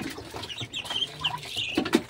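Backyard hens clucking on a farm in the rainy season, ducklings nearby, with short irregular clucks and chatter at close range over a busy, noisy background.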